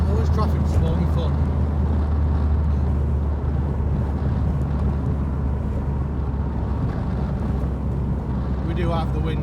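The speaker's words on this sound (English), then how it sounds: "We do have the windows open, by the way, if you can hear the wind blowing." Steady broadband wind rush and low road rumble through the open windows of a 2004 Subaru Impreza WRX cruising at about 40, loud and continuous throughout, with voices talking over it.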